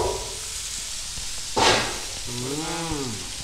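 Tomatoes are tipped into a hot frying pan with ginger, bringing a loud burst of sizzle over a steady background hiss, followed by a brief tonal sound near the end.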